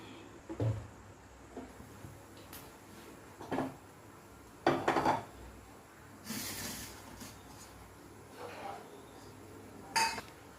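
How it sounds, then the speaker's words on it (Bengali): A metal kadai (wok) is set down and handled on a gas stove, giving scattered clanks, clinks and scrapes over a faint steady hiss in a quiet home kitchen. "গ্যাসে কড়াইটা বসিয়ে দেওয়া হয়েছে, এর মধ্যে 2 টিস্পুন মতন তেল দিয়ে দেওয়া হবে।"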